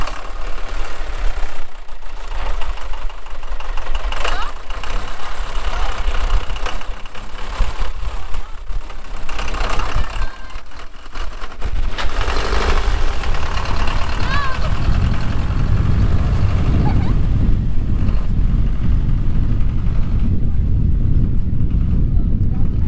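A steady, rough old tractor engine rumble runs throughout in snowy German countryside, with wind buffeting the microphone, growing heavier and louder in the last stretch.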